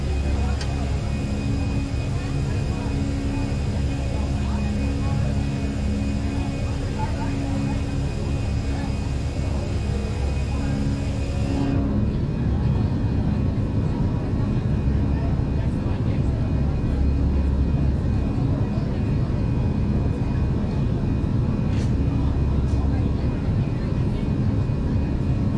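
Fenix A320 jet engines in MSFS2020 throttle back, a loud steady roar with tonal whine that drops sharply in pitch partway through and then settles into a lower, broader rumble.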